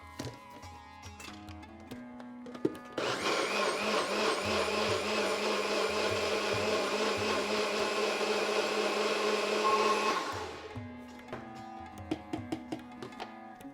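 Blender puréeing cooked spinach and potato for saag aloo paratha filling, a loud steady whir running about seven seconds before cutting out, with quiet kitchen clatter before and after.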